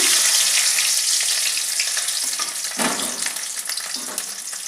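Dried red chillies and garlic fry in a pan of hot oil with black cumin, giving a loud, close, continuous sizzle with occasional stirring scrapes and no talk.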